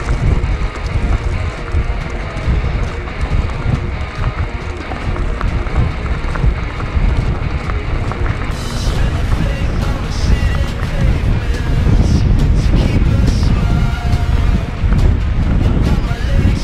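Strong wind buffets the microphone on a misty mountain path up Cadair Idris, a loud, constant roar that gusts harder in the second half.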